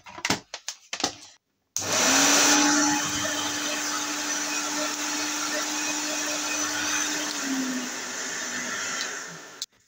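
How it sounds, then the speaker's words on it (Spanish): A repaired hair dryer switches on after a few clicks from the plug and power strip. It then blows with a loud, steady whooshing whir close up, shifts pitch slightly partway through, and stops at the end. "Enchufo el secador. Enciendo la regleta."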